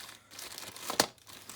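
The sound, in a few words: plastic bread bag crinkling while handled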